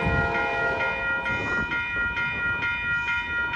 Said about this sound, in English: here comes Amtrak, Capital Corridor Train 729